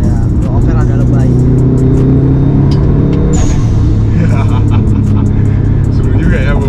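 A turbocharged Subaru WRX STI engine roars and accelerates up close, its pitch climbing steadily, with voices talking over the loud engine noise.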